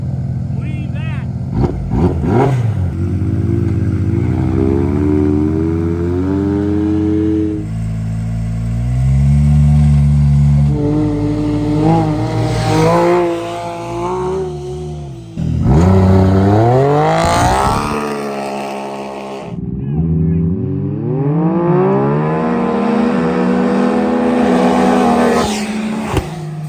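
Can-Am Maverick side-by-sides, a Maverick R against a mostly stock 120-horsepower base X3, race with loud engines climbing through repeated revving sweeps and gear changes. Voices talk over the engine noise throughout.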